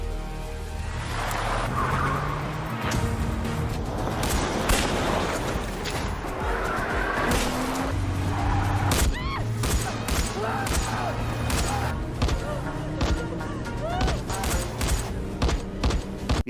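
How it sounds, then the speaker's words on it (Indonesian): Film car chase with an armed attack: engines roar, tires skid and squeal, and bursts of gunfire crack over a dense, continuous score-like wash of sound, loud and busy throughout. "Di tengah aksi kejar-kejaran yang terjadi, Singh berhasil membuat kendaraan"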